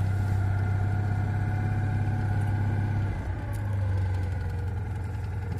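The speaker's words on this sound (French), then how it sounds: "Bruit bien connu du bicylindre." A 1982 Citroën 2CV Charleston's small two-cylinder engine idles steadily with a low, throbbing rumble, close by and constant, with no talking over it.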